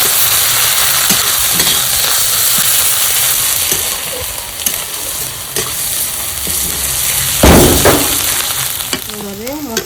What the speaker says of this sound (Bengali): দিয়ে দিব আদা রসুনের পেস্ট। দিয়ে আবার ভালোভাবে ভাজবো, যাতে আদা রসুনের গন্ধটা চলে যায়।